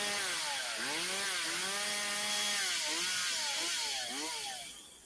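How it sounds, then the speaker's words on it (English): A chainsaw revs up and down through several rising and falling surges, loud and alone, with the engine note sweeping in pitch as it bites into wood and fading slightly at the end. "Pudgy can put the chainsaw in"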